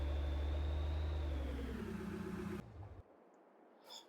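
A tractor engine in the video game Farming Simulator 22 hums loud and steady, its pitch sliding gradually lower before it abruptly cuts out, leaving near silence with a faint knock at the end.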